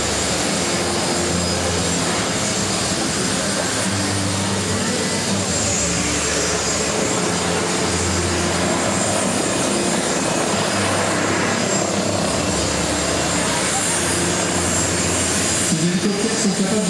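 An Airbus H145 helicopter of the French civil security service runs with a steady, loud turbine whine and rotor roar through the whole stretch, a voice faint beneath it.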